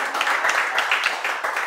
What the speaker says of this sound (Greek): Ένα χειροκρότημα για το bye bye.